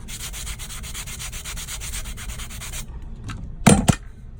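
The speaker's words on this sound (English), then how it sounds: "So you have to do a little sanding." Hand sanding the chunky glitter coat on a milky way tumbler, a close, steady rhythmic rasp of rubbing strokes that stops partway, followed by a couple of brief louder knocks.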